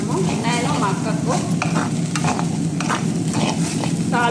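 Spices for a tempering sizzle in hot oil in a pan while a spoon stirs and scrapes the metal in repeated strokes, sounding close and continuous.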